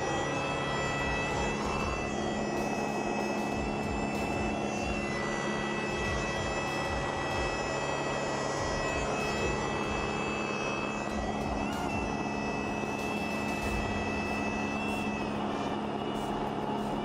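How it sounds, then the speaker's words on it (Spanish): Small light aircraft in flight, its engine giving a constant, steady drone throughout with no talking. "Según los instrumentos de la avioneta, hay momentos en donde esta viaja a 0 kt o 0 nudos"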